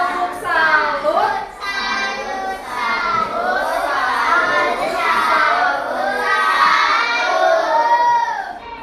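A classroom of children performing a rhythmic 'tepuk salut' clap cheer together, loud continuous group chanting and shouting with claps mixed in, filling the room throughout.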